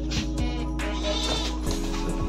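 Goats bleat in a farm yard during breeding: several loud, wavering calls come close together, one after another, with no talking.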